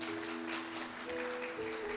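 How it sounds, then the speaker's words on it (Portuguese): Scattered audience clapping at a talk, faint and distant, blended with a low steady hum under it for about two seconds. "Palmas para ele, palmas para ele"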